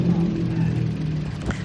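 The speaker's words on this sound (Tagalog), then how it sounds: "Tahimik na yung kanyang makina." The engine of a Toyota Wigo hums quietly and evenly at idle after a transmission repair, a low steady drone close by with a faint click near the end.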